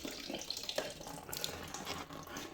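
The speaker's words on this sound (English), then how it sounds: "So it's all draining out." Coolant drains and splashes out of a Kawasaki Versys-X 300 motorcycle during a flush, a close, steady trickling pour with small splashy bursts and no talk.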